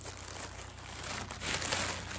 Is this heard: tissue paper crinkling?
yes